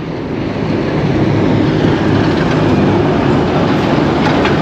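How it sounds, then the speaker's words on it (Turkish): A loaded fuel train of freight tank cars rolls past close by in Batumi, a steady loud rumbling roar with rail clatter that holds for several seconds without a break. "Bu yakıt treni olabilir arkadaşlar."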